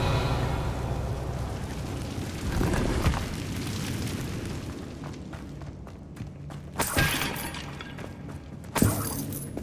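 Confringo spell blasting apart a barricade in the Hogwarts Legacy video game: a steady rumbling game soundscape broken by sharp crackling bursts and shattering impacts, the loudest hits landing near the end.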